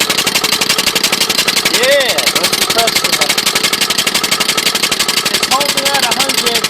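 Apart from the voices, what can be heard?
lawn mower engine converted to run on steam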